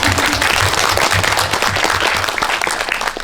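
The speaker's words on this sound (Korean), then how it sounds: "박수를 한번 드리죠." Audience applause at a film screening Q&A for the Korean indie film 그 겨울, 나는 at Indie Picnic 2022, a dense, loud burst of many clapping hands filling the room steadily and fading slightly at the end.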